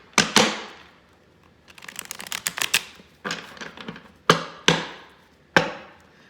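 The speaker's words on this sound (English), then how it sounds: "let me shuffle these really good," A deck of reading cards is shuffled by hand: a few sharp card slaps, then a quick papery riffling burst, and more crisp slaps spaced apart. The sound is close and there is no talking.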